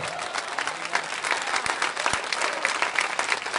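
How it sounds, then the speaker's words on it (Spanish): A church congregation gives a round of applause during a sermon, a thick, continuous spread of hand clapping with a few sharper individual claps standing out, close and fairly loud throughout. "Y un aplauso al Señor en esta hora."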